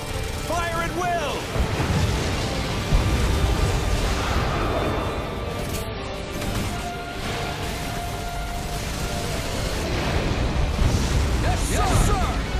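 Gunfire and explosions from the Earth Defence Force 2025 video game, a dense continuous barrage of blasts and booms lasting throughout, with voices shouting over the battle noise.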